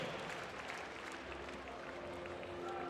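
Crowd at a handball medal ceremony at the 2014 European Championship, Croatia versus Spain bronze match, applauds steadily, a faint, even patter of clapping in a large arena.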